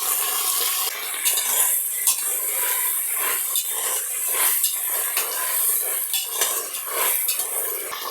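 Onions sautéing in a pan toward golden brown for chicken biryani, with steady close scraping and clinking of a utensil stirring against the pan over a soft continuous sizzle, no voices.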